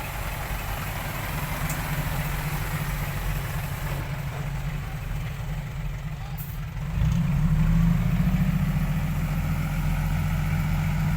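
A heavy dump truck engine rumbles steadily at close range while stuck in mud, then revs up louder and deeper toward the end.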